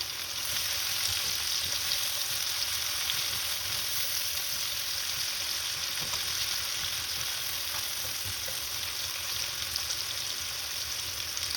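Vegetables fry in a pan for a red sauce pasta masala, giving a steady, moderately loud sizzle and crackle that runs unbroken with faint spattering pops.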